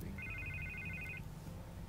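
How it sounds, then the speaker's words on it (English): A telephone ringtone in the Batman Telltale Series video game gives a short electronic trill, quiet and heard alone over a low background hum. "I can't get the phone to stop ringing"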